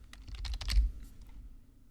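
A computer keyboard is typed on during a software tutorial, with a quick close run of clicking keystrokes that fades out into a quiet hum.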